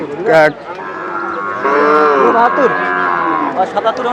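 Cattle low and moo loudly and close at a livestock market in Panchagarh. A short call is followed by a long, drawn-out moo, with voices faint in the background.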